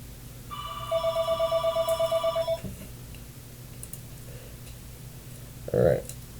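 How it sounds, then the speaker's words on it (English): A mobile phone rings with a rapid, bright electronic trill of evenly pulsed beeps lasting about two seconds, heard indoors at a card table. The ringing then stops, followed by quiet room noise and a brief muffled voice. "My bad, phone went off right there."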